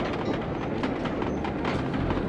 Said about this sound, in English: And there's another train coming.